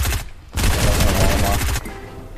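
Rapid automatic gunfire from a Fortnite match rattles in a loud, sustained burst after a short opening shot, dense and close, then cuts off into quieter game ambience.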